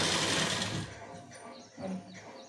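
A sewing machine stitching a blouse sleeve, a fast whirring burst for just under a second and then a shorter, quieter run, close and alone with no talking.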